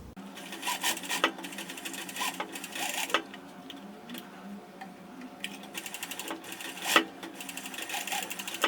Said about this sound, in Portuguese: Então aqui eu já terminei de passar a overlock em volta toda.